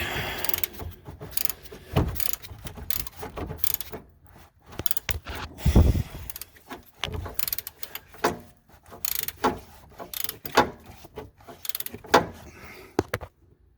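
A GearWrench ratcheting wrench clicks in irregular bursts while loosening a bolt on a 2007 Tahoe, near and busy, with metallic knocks and handling noises between the runs and no talking.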